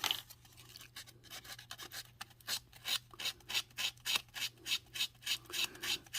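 Hand sanding on the bodywork of a 1969 Dodge Charger R/T during a commission build makes a steady rasping rub, strokes repeating in an even back-and-forth rhythm up close, with a low hum underneath.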